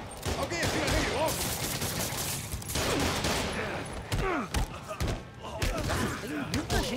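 Bursts of gunfire in the Spider-Man: No Way Home video game, repeated shots and thuds crackling through a busy action scene, with voices under the combat.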